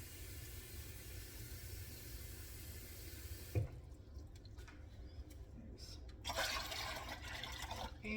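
Faint running water from a tap fills a container, with a sudden clatter partway through and the flow growing louder toward the end.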